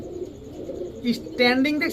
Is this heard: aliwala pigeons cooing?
yes